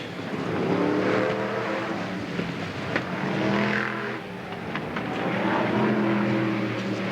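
BriSCA Formula 1 stock cars race in a 1991 veterans event, engines roaring and surging as the cars pass at moderate distance, with crowd-like wash in the background.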